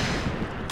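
A short, loud burst of rapid automatic gunfire in the shooter game Point Blank, a dense, continuous rattle.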